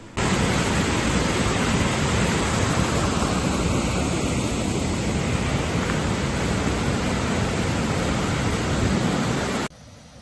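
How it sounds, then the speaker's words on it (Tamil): A waterfall swollen by heavy rain roars with a loud, dense, unbroken rush of falling water that holds steady throughout, then cuts off abruptly just before the end. "இங்கே பாருங்கள், ஃபால்ஸில் எவ்வளோ தண்ணி"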